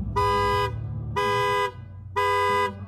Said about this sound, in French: L'alarme anti-intrusion, juste avant de déclencher les klaxons, vous balance une musique de métal.